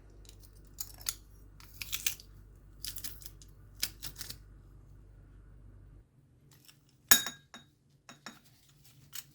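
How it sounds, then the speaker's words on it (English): Garlic cloves are smashed and crushed in a kitchen with a series of sharp, close cracks and crunches, one loud crack standing out near the end, followed by smaller clinks and scrapes. "Let's start smashing the garlic."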